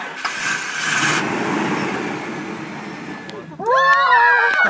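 A car engine that sat unused for a year is cranked over after a jump start, giving a steady grinding crank for a few seconds before it catches and settles into a louder, rough idle nearby.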